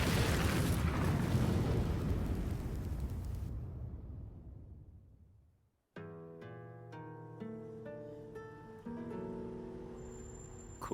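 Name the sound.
explosion in Tekken 7 video game cutscene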